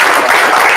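A loud, close burst of dense clapping from an audience at a coaches conference, greeting a basketball coach, steady and unbroken for a moment with no talk.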